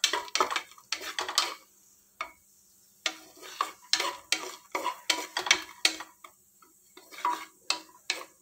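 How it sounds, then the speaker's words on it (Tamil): Nuts and raisins roasting in a pan for carrot halwa, stirred with a spoon in quick bursts of scraping and clinking against the metal, separated by short quiet pauses. "சிவக்க வறுத்து எடுத்து வச்சுக்கோங்க"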